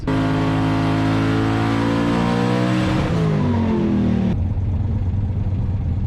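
A twin-turbo small-block Ford Foxbody Mustang on a dyno: a loud, close engine roaring and climbing steadily in pitch, then cutting sharply to a lower rumble near the end.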